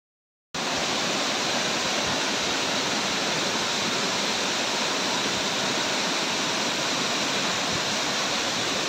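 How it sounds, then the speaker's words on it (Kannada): A small waterfall near Kalasa in the Kudremukha area, where water flowing down from above pours in a steady, even rush that starts abruptly after a short silence and then continues unchanged. "ಅಲ್ಲಿಂದ ನೀರು ಹರಿತಾ ಹರಿತಾ ಕೆಳಗೆ ಬರ್ತದೆ. ಅಲ್ಲಿ ಒಂದು ಸಣ್ಣ ಫಾಲ್ಸ್ ಥರ ಇದೆ."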